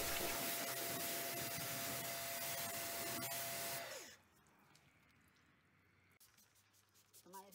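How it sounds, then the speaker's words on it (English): A Karcher pressure washer rinses a VW T5 Transporter van: a loud, close, steady hiss of spray for about four seconds, then it cuts off, leaving quieter background sounds. "now I'm just giving it a good rinse with the Karcher"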